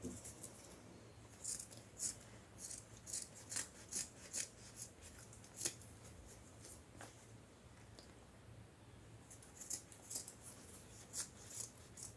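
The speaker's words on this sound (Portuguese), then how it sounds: "Agora, a gente pode cortar as sobrinhas aqui." Scissors trimming excess fabric off a sewn pencil case, a series of quiet crisp snips in short bursts with a pause in the middle, close but faint.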